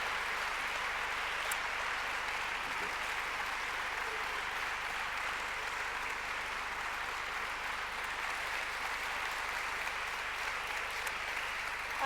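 Sustained applause from a large crowd, steady and even throughout, heard from a distance in a big room.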